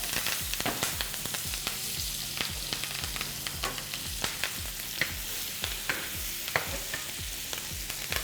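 Rib eye steak frying in unsalted butter in a hot pan, a dense, continuous sizzle with a rapid run of crackling pops and spits, close and loud, no talking.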